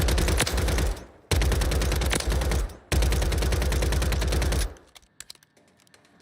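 Rapid automatic gunfire from a video game weapon, fired in three sustained close bursts separated by brief pauses, loud and dense, then cut off into a quieter tail with scattered clicks.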